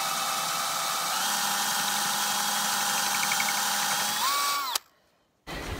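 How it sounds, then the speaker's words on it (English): A power drill fitted with a plug cutter bit bores steadily around stuck screws in old, rotting deck boards, whining loud and continuous for about four seconds, then its pitch rises briefly before it cuts off into near silence. "got this nifty little bit for the drill called a plug cutter"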